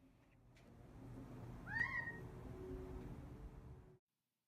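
A male Gambel's quail gives one clear, ringing call partway through, standing out over a steady background hiss and low rumble.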